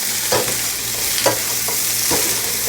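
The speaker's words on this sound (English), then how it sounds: "Sometimes it's best to use 2 utensils to stir fry, just like a restaurant." Shrimp, bell pepper and mushroom being stir-fried in a hot pan with two utensils: a steady sizzle with several scraping, tossing strokes at irregular intervals, close and clear, with no talking.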